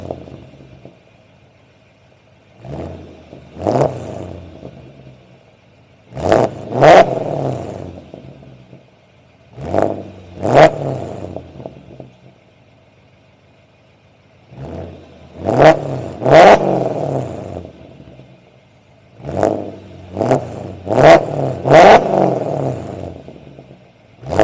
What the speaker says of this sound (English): the fifth thing I would have to say is how this car sounds